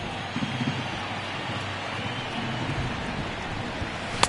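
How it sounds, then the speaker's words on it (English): Steady rain pours down on a baseball stadium in the video game MLB The Show 19, a dense even hiss that runs throughout, with a brief sharp crack near the end. "the rain starting to intensify here. It's coming down a little heavier now."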